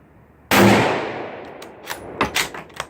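A single sharp, loud shot from a Remington 783 bolt-action rifle in .243 firing Remington Core-Lokt ammunition, ringing out and decaying over about a second, followed by a few fainter clinks and knocks.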